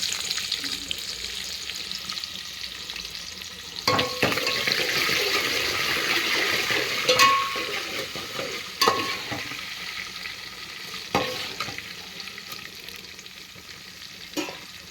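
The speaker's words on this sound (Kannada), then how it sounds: "ಈಗ ಜೀರಿಗೆ ಸಾಸಿವೆ ಹಾಕಾಕತ್ತೀನಿ" Cumin and mustard seeds sizzling in hot oil with urad dal, a steady close sizzle and crackle punctuated by several sharp spoon or pan knocks.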